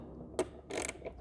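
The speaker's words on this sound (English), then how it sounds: "if you used an 11/32 6-point socket, you can get on and turn these in and out" An 11/32 6-point socket turns a tail light adjuster on an Aston Martin DB9, giving a sharp metallic click followed by a short grinding ratchet-like rasp, close and brief with no talking.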